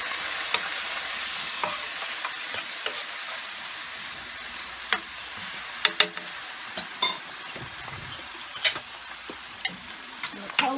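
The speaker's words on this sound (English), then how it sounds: "The cabbage, I'm going to give a stir." Cabbage fries in a pan under a steady soft sizzle, with occasional utensil clicks and scrapes as it gets stirred, close and quiet, no one speaking.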